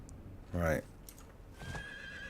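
A horse mount in the video game Diablo IV lets out a short, close whinny about half a second in, then fades back into quiet in-game ambience with a faint tone.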